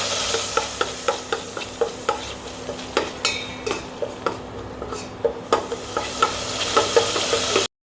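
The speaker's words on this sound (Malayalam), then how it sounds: "നമ്മുടെ മുളകൊക്കെ ഒന്ന് നന്നായി വഴറ്റിയിട്ടുണ്ട്, ഒന്ന് മൂത്തതായിട്ടുണ്ട്" Green chillies frying in a pan are stirred briskly with a utensil, producing a regular run of sharp scraping clinks over a constant close sizzle, with no voices.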